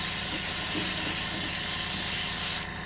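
A paint spray gun hisses in a steady, close airy burst as sparkly paint is sprayed onto a diecast model wagon, then cuts off abruptly near the end.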